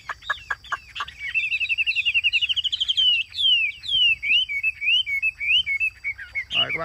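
A caged Chinese hwamei songbird sings loudly and close, giving a few sharp opening notes, then a long rapid warbling trill followed by varied, looping whistled phrases.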